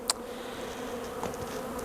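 A steady, low buzz of honey bees close by at a damaged hive, with a brief faint click near the start and no talking.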